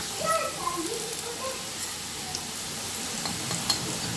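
Vegetables fry in a pan over low heat, a constant soft sizzle with occasional stirring scrapes, while someone speaks and a voice drifts in from nearby.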